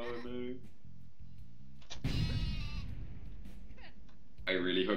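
A cartoonish sheep bleats in the artillery video game Worms Ultimate Mayhem, wavering bleats amid explosive game effects, with people talking over it.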